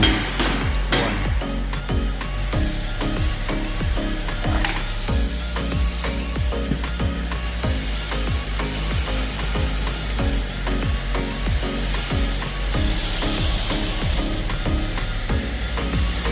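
Robusta coffee beans roasting in a drum roaster, giving a steady, continuous mechanical rattle and clatter of tumbling beans with rhythmic clicking, close and fairly loud throughout.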